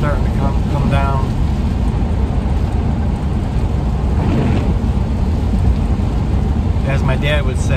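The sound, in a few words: heavy rain coming down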